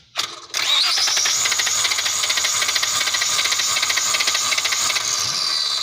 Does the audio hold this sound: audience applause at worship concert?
no